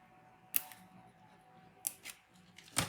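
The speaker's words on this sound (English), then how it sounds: "I'm going to cut the drawers out before I take this backing paper off" Scissors snip through paper, cutting out drawer shapes along a printed line on furniture decor transfer paper, giving a few crisp separate cuts spaced over a quiet room.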